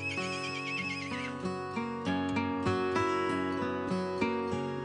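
A horse neighs loudly in a stable stall, a long wavering whinny with strong harmonics, followed by further snorting whinnies and clopping hoof sounds close by, with no talking.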